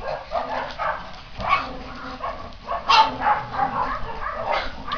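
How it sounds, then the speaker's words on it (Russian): Several dogs and puppies bark and yip in repeated short bursts at feeding time, with an occasional whimper, fairly close and moderately loud. "Сейчас будем лаять и гавкать."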